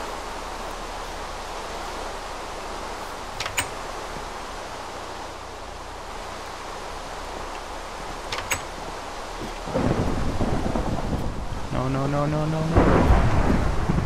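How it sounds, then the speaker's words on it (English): A thunderstorm with rain in the video game Minecraft: steady rainfall hisses throughout, with faint thunder and clicks, then a heavier rumble swells near the end; a voice speaks briefly. "why is there rain? I hate rain."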